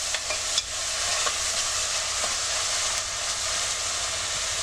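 Ginger and garlic fry in hot oil for a Tamil chicken curry, giving a steady broadband sizzle with a few light clicks of stirring, close and continuous throughout, with no voices.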